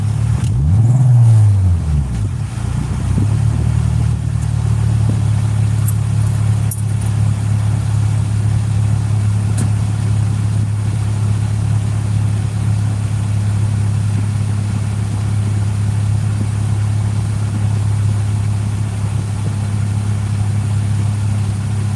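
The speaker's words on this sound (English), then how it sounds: "Rev it real quick. Rev it again." A Mitsubishi GSR car engine under troubleshooting gives a quick rising rev near the start, then settles into a loud, steady low idle hum that runs on alone.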